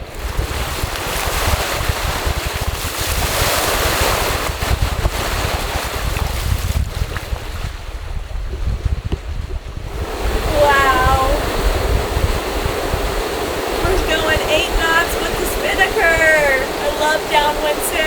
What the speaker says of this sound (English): we're sailing northwest, winds behind us, flying the Spinnaker, doing 8 knots in flat, calm water